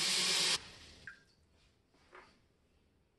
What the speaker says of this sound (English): head to the sink, and fill the bowl with water so that it fills about halfway